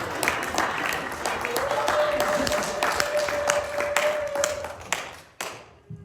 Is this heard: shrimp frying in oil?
no